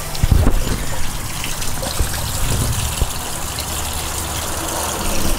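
Fish tipped from a container into a backyard pond, with a cluster of splashes at the start, then steady trickling and gushing water, likely from a pond pump, running on underneath.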